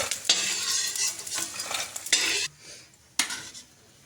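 Edible gum (gond) roasting in ghee in a kadhai, crackling sizzle broken by repeated scrapes and stirs of a metal spoon against the pan, loud and close with short pauses between strokes.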